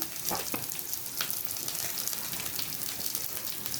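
Curry leaves and green chillies hitting hot oil in a frying pan, a steady faint sizzle and crackle that holds evenly throughout with a few soft pops.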